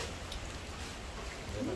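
Steady rain falling, a dense even hiss of drops with no distinct pauses, close and moderately loud for the whole short stretch.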